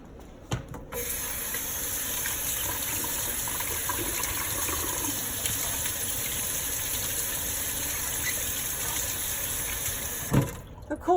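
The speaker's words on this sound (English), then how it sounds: "remove it from the model after running it under some cold water." A cold tap runs steadily as a dental mouth guard is held under the stream, a continuous hissing gush of water close by with brief clunks at the start and end.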